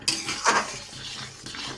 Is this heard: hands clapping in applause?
no